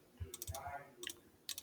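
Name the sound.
typing on a calculator keypad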